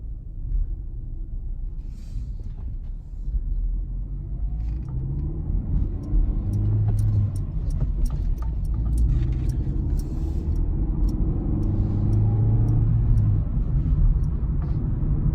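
A 2020 Chevrolet Spark with about 5,000 miles drives on the road, its engine droning loud and close as revs climb and fall through successive gear changes, without talk.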